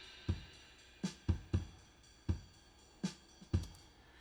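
A soft, simple Logic Drummer pattern plays, with sparse kick and snare hits spaced unevenly under light cymbal wash, quieter and less busy than a full groove, with no voices.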